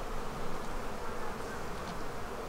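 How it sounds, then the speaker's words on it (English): Dense buzzing of many honey bees close by around a hive, a continuous droning hum that swells slightly, with no talking. "We have a lot of bees."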